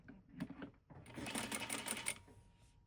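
A sewing machine stitching a fold of dress or skirt fabric at about a 3 length setting, starting with a few short stutters, then a steady, close, fast mechanical whirr running for over a second before stopping.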